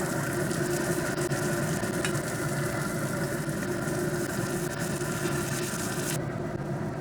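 Peppers and onions sizzle on an oiled pellet grill at about 425 degrees, a steady, dense hiss over a low engine-like hum that holds evenly throughout, close and without voices.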